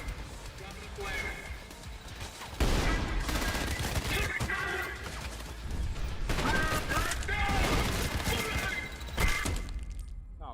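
Gunfire from the video game Trepang2 bursts out in rapid volleys with crashes and thuds throughout. A voice shouts over the shooting.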